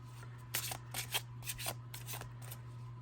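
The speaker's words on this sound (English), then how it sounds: "Yep, it has a wonderful shuffle to it." Tarot cards riffle and slide in several quick bursts of papery rustling, close up, over a low steady hum.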